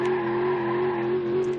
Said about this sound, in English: First thing we should do is burn the tires.